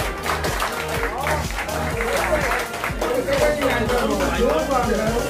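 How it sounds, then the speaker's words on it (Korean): Former classmates at a 2018 nationwide alumni reunion on Yeongchuksan mountain clap in a lively burst, loud and close, mixed under ongoing talk and voices. "박수 한번 주세요."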